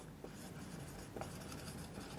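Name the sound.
writing on a board during a lecture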